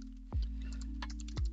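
A couple of soft, isolated keystrokes on a computer keyboard while writing Unity code, set against a constant low electrical hum.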